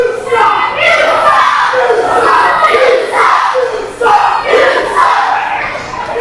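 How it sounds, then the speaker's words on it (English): Wrestling crowd at a tag-team match chanting in a repeated rhythmic pattern of loud shouted bursts, several cycles in a row, filling the hall. "Richie Nightmare is getting his crowd in chanting suicide"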